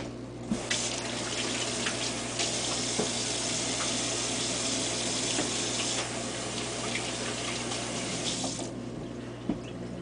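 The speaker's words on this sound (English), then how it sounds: "let me wash my hands here" Hands washed under a running kitchen tap, a continuous close rush of water with louder splashing stretches and a few small knocks, no talking.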